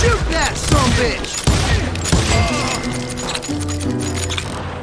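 A rapid burst of gunfire in Call of Juarez Gunslinger, a western shooter, with loud sharp shots cracking in quick succession over the first couple of seconds, then fading into a lower rumble with music-like tones.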